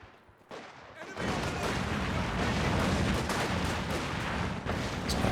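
Sustained battlefield barrage in a Company of Heroes 2 match: dense overlapping gunfire and explosions from sniper shots and mortar rounds, loud and continuous after a brief quieter opening.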